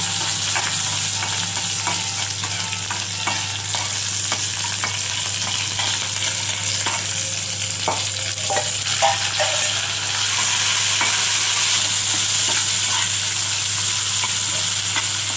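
Shrimp fry in a pan with nigella seeds, green chili and garlic, sending up a continuous close sizzle with intermittent stirring scrapes that grows slightly louder toward the end, with no talking.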